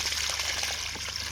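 Dirty water from a wax melter, left over from rendering beeswax for candles, pours in a steady, close trickle with a low hum underneath.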